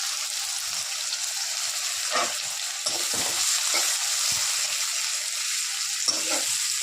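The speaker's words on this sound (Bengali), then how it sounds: "পেঁয়াজটা পুরো লাল করবো না, হালকা করে ভেজে নেব" Chopped onions fry and sizzle steadily in a pan, with occasional soft stirring scrapes breaking the constant hiss.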